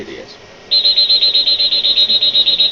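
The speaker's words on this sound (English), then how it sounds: "We can hear a buzzer. This is critical pressure alarm." A high-pitched electronic buzzer, the critical pressure alarm of a vitrectomy and phaco surgical machine, starts suddenly and pulses rapidly and steadily, loud and close, after a moment of quiet background.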